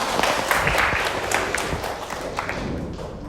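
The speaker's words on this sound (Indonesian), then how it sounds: "Tepuk tangan buat kalian lagi." A classroom of students applauds after a teacher's lesson, a dense patter of claps with scattered louder taps that stays fairly steady and close throughout.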